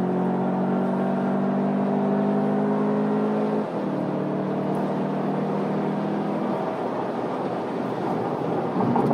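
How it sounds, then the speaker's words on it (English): Inside a 2019 VW Jetta GLI 35th Anniversary on a Texas highway, steady tire roar and wind noise fill the cabin with a low engine drone, continuous and even throughout, no voices. "There's a little bit of wind noise. There's definitely some tire noise in here."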